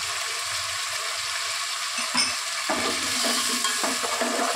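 A spoon stirs and mixes Hyderabadi bagara khana and khorma in a frying pot, giving a steady scraping, sizzling wash with a few sharper knocks against the pan, close and without talk.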